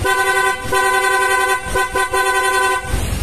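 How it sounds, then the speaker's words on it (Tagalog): A rapid horn fitted to a Sniper 155 motorcycle sounds in loud, steady honks that break off briefly several times, with engine noise underneath. "Tapos nagpa-rapid horn na rin."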